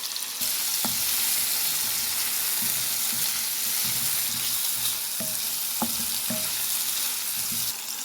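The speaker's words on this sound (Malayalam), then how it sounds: "അതോടൊപ്പം തന്നെ കറിവേപ്പില, ഇഞ്ചി, പച്ചമുളക് ഇത്രയിട്ട് നന്നായിട്ട് ഇളക്കിയെടുക്കാം, വഴറ്റിയെടുക്കാം." Pineapple sautéed with curry leaves, ginger and green chilli gives a loud, continuous close-up sizzle, with a spatula scraping and knocking against the pan every few seconds.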